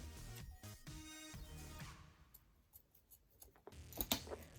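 Scissors snip through organza ribbon while a boutique hair bow is made, giving a few close crisp cuts in the first seconds, then quieter handling rustle and a couple of sharp ticks near the end.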